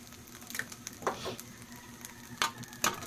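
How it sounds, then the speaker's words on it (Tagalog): Three eggs frying in a pan, a soft steady sizzle with a few brief crackling spurts and light scraping, heard close and fairly quiet. "3 pirasong itlog lagay ko dyan."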